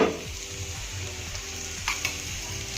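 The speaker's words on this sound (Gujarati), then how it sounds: "પરાઠો સરસ શેકાઈ ગયો છે આ સાઈડથી" A cheesy garlic paratha roasting in a hot pan gives a steady, close sizzle and crackle, with a couple of faint clinks partway through and no talking.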